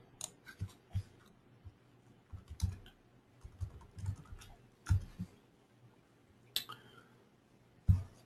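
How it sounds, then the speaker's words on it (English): People type on computer keyboards in a trading session room, scattered bursts of sharp key clicks and clacks at close range, uneven in rhythm with short pauses between flurries. "Okay, everybody stop typing, please."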